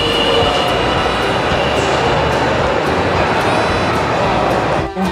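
A commuter train pulls out of Marina station in Lagos, Nigeria, its steady loud rumble and rail noise filling the clip, close and continuous throughout.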